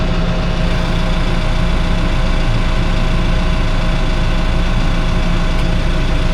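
A tractor engine idles close by in a sheep field, a loud, steady low rumble with an even throb that continues unchanged throughout.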